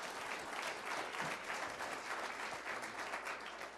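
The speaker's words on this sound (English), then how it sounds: "Just give him a round of applause for that." Conference audience giving a sustained round of applause, dense crowd clapping that stays fairly even and full throughout, with no speech over it.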